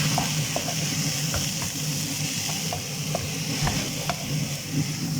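Vegetables sizzle and crackle in a hot pan, a steady frying hiss with occasional stirring clinks and pops, close by.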